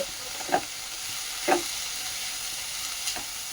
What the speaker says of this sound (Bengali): এটাকে ভালো করে মিশিয়ে ভেজে নেব